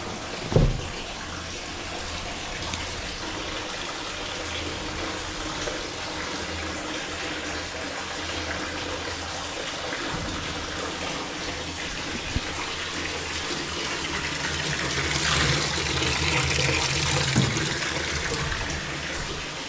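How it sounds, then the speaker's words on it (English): Hot water runs from a tap into a tank, a steady splashing rush that carries on throughout and swells louder toward the end, with a sharp knock near the start. "Start the hot water."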